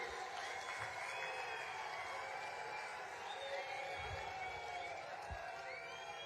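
A crowd at a BJP political rally in Una, Himachal Pradesh, claps and cheers in a steady, dense wash of applause that holds evenly from start to finish.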